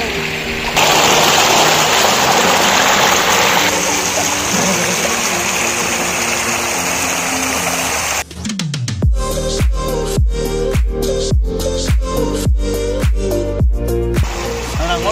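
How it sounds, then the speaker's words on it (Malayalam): A small waterfall gives a loud, steady broadband rush of water for about eight seconds, then a rhythmic music track with a strong beat takes over. "നല്ല ചെറിയൊരു കുട്ടി വെള്ളച്ചാട്ടം."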